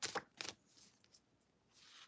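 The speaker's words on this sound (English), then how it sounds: "So let's shuffle for Ron." A deck of large oracle cards is shuffled by hand in a few quick, soft riffling bursts separated by brief pauses, close and quiet.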